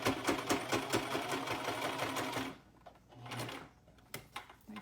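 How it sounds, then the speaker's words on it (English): A sewing machine stitches down the pleats of a fabric face mask, a fast, steady mechanical chatter for a couple of seconds, then stopping, with a few softer clicks and handling sounds afterward. "So we're just going to sew the pleats together."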